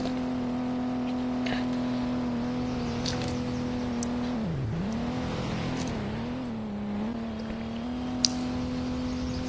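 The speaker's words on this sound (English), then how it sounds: "we see the cars revving" Cars revving in a Roblox game, a steady engine drone holding one pitch with a deep dip around the middle as the revs drop and climb back, continuous and fairly loud throughout.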